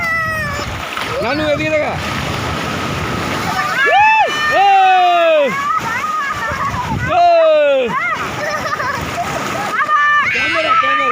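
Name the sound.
child splashing and playing in water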